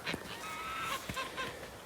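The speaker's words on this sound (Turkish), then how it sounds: "Gördüğünüz gibi kazlar" Geese honking on a duck farm in short, scattered calls, fairly close and moderately loud, with a steady outdoor background and no talk.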